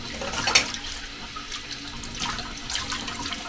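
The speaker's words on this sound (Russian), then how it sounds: "Течет холодная вода." Cold water runs from a kitchen tap into a sink during dishwashing, a steady close hiss of flowing water with a few brief splashes and clatters mixed in.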